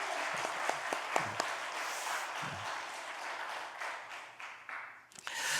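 Congregation clapping during a Sunday morning church service to thank the accompanying sisters, a dense, steady wash of applause with a few sharper claps up front, tapering off near the end.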